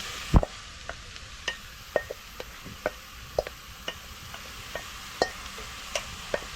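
Grated carrots are stirred in a pan for carrot halwa: regular spoon scrapes and taps against the pan repeat about every half second over a soft background sizzle.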